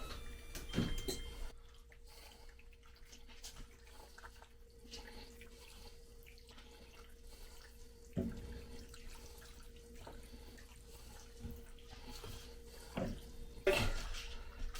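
Rigatoni pasta being stirred into vodka sauce in a pot in a rustic kitchen, with wet scraping and faint metallic clinks running on and off, and louder knocks of the utensil against the pot near the start and end.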